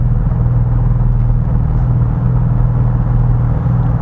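Porsche 718 Boxster GTS 4.0 engine in Sport Plus mode, a loud, steady low rumble with a deep humming tone, heard from inside the car while cruising, constant throughout with no talking.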